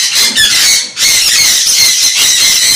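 Conure parrot at a bird farm in Kolkata: loud, harsh, continuous squawking close by, with shrill overlapping cries and a short break near the start.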